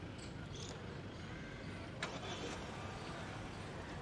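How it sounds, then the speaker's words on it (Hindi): A 2022 Mahindra Scorpio SUV starts remotely, a brief crank at about the midpoint, followed by a low, steady idle hum heard faintly from nearby. "अभी मैं कमांड दे रहा हूँ अपने फ़ोन से और देखिए गाड़ी स्टार्ट हो जाएगी"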